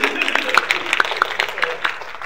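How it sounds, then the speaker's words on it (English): Audience applause for cosplayers at an anime convention panel, a dense patter of claps from a crowd mixed with a few sharper nearby claps, steady and moderately loud for a couple of seconds. "Give them a round of applause"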